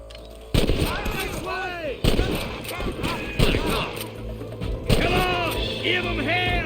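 A shootout in Red Dead Redemption, several loud sharp gunshots at irregular intervals with echoing tails, mixed with shouting voices throughout.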